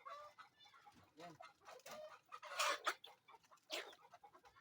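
Pet chickens squabble close by, with agitated clucks, squawks and flurries rising and falling in a busy, uneven stream at low overall loudness, with a little background talk.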